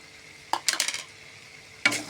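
A spoon stirring chicken curry with fried potatoes and spices in a pot, scraping and clinking against the metal in a short burst, then one more scrape after a pause, over a faint sizzle.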